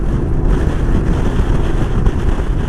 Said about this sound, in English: Oh, very windy.